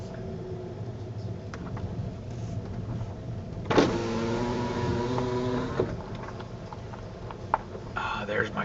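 Vehicle tires rolling over gravel on a state park road, a steady close crunch and rumble with engine noise under it and a few brief clicks.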